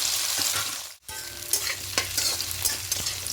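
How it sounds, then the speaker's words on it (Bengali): Cut potatoes sizzling and frying in a pan on a gas stove while being stirred, a steady close crackle with scraping stir strokes and one brief drop in sound. "আলুগুলোকে একটু নাড়াচাড়া করে ভেজে নেবো"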